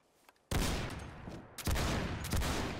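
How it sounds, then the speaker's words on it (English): Side-by-side double barrel shotgun blasts in Fallout 4, modded weapon: three loud close shots with sharp onsets and decaying tails, the first after a brief quiet start. "The major difference with the side-by-side shotgun is a lot less recoil and a far less beefy sound than its bigger brother."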